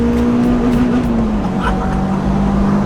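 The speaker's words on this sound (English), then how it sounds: "the exhaust is absolutely terrible. It's got several holes in it, it's blowing, it's rasping, it's farting." Peugeot 306 GTI running with a holed, blowing exhaust, a loud steady raspy drone heard close from inside the car, the engine note holding then dipping slightly, continuous with no pauses.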